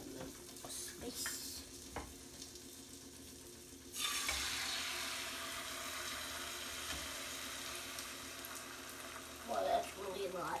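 Eggs drop into a hot pan beside other food and a loud steady sizzle breaks out, continuing under light stirring and clinks, with a brief voice near the end.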